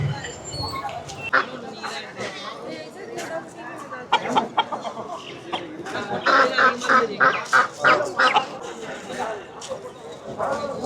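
A busy crowd of chickens and other fowl cluck and squawk at a poultry market in Chennai, with people talking among them in a noisy, bustling setting.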